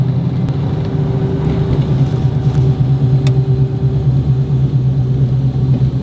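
A Buick Regal driving on the street, its engine droning loud and steady from inside the car with a strong low hum and slight rises in pitch as it accelerates, no voices.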